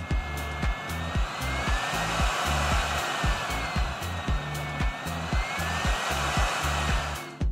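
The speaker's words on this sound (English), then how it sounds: "this knob controls the volume or speed of air that the heat gun is outputting" The hot air gun of a Yihua 8786D-I soldering and rework station blows a loud, continuous rushing stream of air. A rhythmic series of low thumps recurs beneath the airflow throughout.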